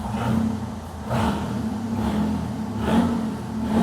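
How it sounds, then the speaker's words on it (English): An old car engine, first run after sitting for 20 years, idling with low rumble, rising in a few gentle revs in succession, fairly loud and close. "And then give it a few revs, just a little."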